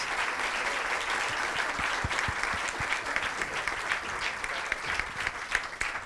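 Applause for two speakers at a leadership talk, a continuous soft patter of many hands, moderately quiet and unbroken from start to finish.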